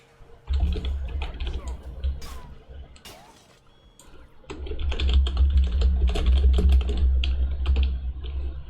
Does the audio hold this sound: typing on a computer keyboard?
yes